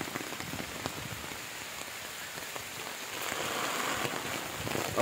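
Steady rain patters down near a pond, a dense hiss of drops that swells slightly louder toward the end, with no voices.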